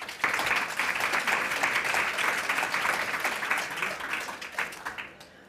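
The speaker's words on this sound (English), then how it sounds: "Please give our speakers a very warm round of applause" Warm audience applause for the speakers at an artist talk, dense steady clapping from a crowd lasting several seconds before tapering off at the end.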